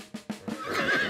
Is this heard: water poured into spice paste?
no